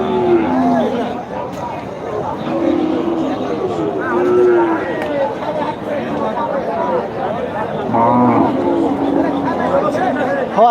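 Cattle at a dairy cow market, with several loud nearby moos recurring over a background of people chatting and bargaining.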